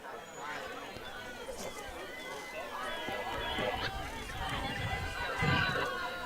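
Crowd at a senior night high school softball game, a steady murmur of chatter and voices from the stands that swells slightly over several seconds, with a commentator talking over it.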